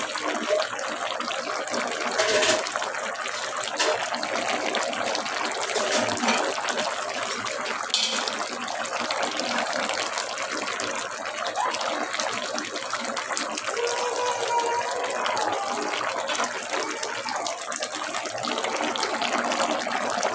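Fish pieces go into a simmering pot of mixed vegetable curry, giving a steady wet bubbling and hissing that holds for the whole stretch, with a few sharper spatters and no talk.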